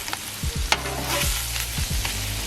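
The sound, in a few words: sub roll toasting on a Blackstone griddle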